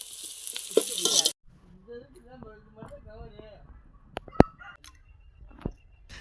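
Sliced onions, cinnamon and green chillies hitting hot oil for a Chettinad chicken gravy, a loud crackling sizzle for about a second that then drops away, followed by a voice talking with faint clinks and stirring.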